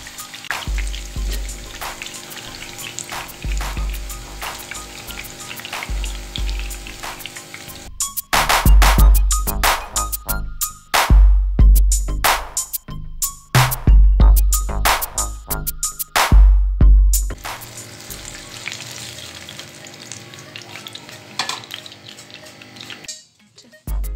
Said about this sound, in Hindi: अब हम इनकी दूसरी साइड फ्राई होने देंगे।